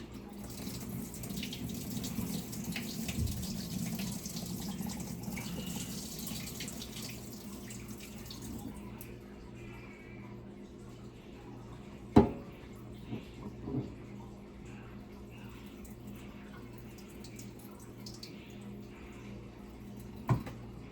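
Kale and cabbage rinsed under a running kitchen tap: a steady, fairly loud gush of water for the first several seconds, then a quieter trickle with a few sharp knocks and splashes.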